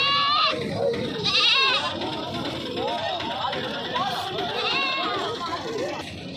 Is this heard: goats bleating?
yes